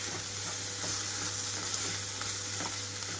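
Tomato goes into a bitter gourd curry frying in a pan, giving a steady, close sizzle with faint stirring scrapes and no voices.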